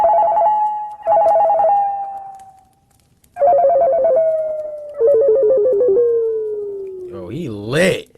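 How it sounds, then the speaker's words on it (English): A cell phone ringtone plays as a melodic electronic ring, sounding in three separate bursts with pauses between them, close and fairly loud, followed by a brief warbling electronic tone at the end. "I remember hearing my cell phone ringing throughout the night."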